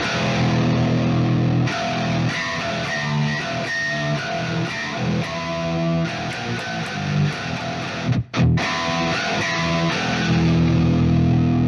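A heavy, low-tuned electric guitar riff chugs with distorted palm-muted notes in a driving rhythm, loud and continuous with one brief break.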